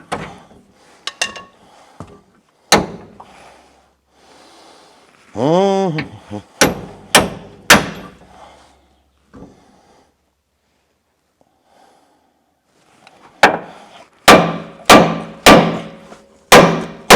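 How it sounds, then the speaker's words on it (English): Sharp metal hammer strikes ring out during repair work on a Toyota Hilux, single blows and quick clusters of loud, close impacts separated by pauses, with a few small handling noises in between. "I think I'm going to need a bigger hammer."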